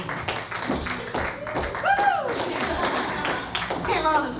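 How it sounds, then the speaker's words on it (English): Scattered clapping from an audience as a woman comes forward to speak at an evening gathering, uneven and moderately loud, with voices and a high whoop mixed in. "let's give her a round of applause."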